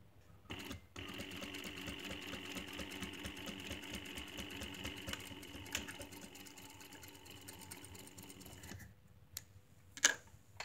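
A sewing machine runs steadily while stitching a pocket flap on a garment, a fairly quiet continuous mechanical whir lasting several seconds, then stopping, followed by a couple of faint clicks.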